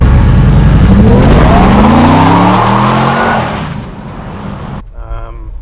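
A supercharged restored Chevy Thriftmaster pickup's engine roars hard as it accelerates, pitch climbing steadily, then cuts off abruptly and leaves a quieter rumble.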